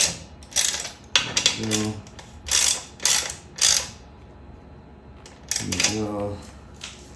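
Bolts being snugged up on a Burromax XRA wheelie bar with a ratchet, several short bursts of rapid clicking close by, separated by pauses, with a person speaking briefly between them.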